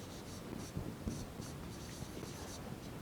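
Pen or marker scratching out a geometry statement on a board or paper during a Class 10 maths lesson on triangles, a steady run of faint, quiet strokes with a few slightly sharper taps, no talk.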